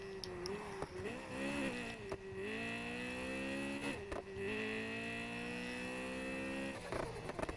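A car in Need For Speed Heat revs with a whining engine tone that rises and falls between shifts. Turbo chatter and sharp flutter bursts sound close and loud.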